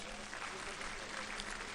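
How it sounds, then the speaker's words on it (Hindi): An audience at a school gathering at Acharyakulam in Haridwar gives a round of applause, heard as a faint, distant, continuous patter of many hands with no distinct individual claps. "एक बार जोरदार तालियां हो जाए।"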